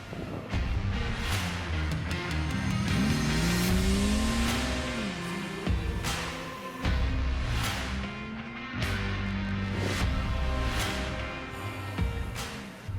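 An older Ford pickup on a test drive after OEM sway bars were fitted, its engine droning steadily with rising and falling revs over constant road and tire noise, with no talking.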